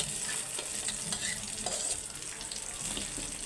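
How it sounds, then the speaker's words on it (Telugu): Ground tomato and onion chutney hits a hot tempering with a constant, close sizzle while it is stirred, with no voices. "ఆ చట్నీని పోపులో వేసేసుకోండి."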